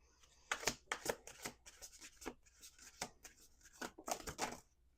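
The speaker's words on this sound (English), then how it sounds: "Two more shuffles." Playing cards are riffled and shuffled in several quick, crisp bursts of fluttering clicks, close up, with brief pauses between.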